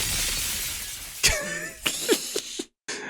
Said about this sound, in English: They even have the sound of breaking glass like he just shot a truth bullet at her